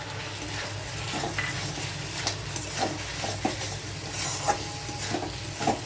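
Rice and a little water go into a hot pan of oil while cooking muri ghonto with rohu fish head, giving a loud continuous sizzle and frying hiss with stirring scrapes and light clinks of the utensil against the pan.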